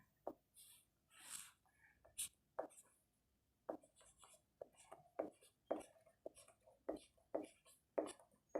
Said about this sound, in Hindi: देखिए हम यहाँ पे लिख दे रहे हैं